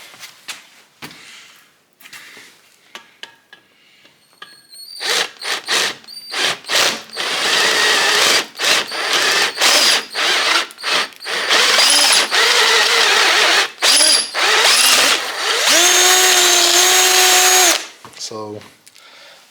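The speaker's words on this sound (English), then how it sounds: "sometimes you got to be careful with these step drill bits" Step drill bit cutting through an aluminum rear caliper bracket for a 1973 Impala: a close, loud power drill whirring in bursts, with stops, clicks and a steady sustained run near the end, and someone talking briefly around it.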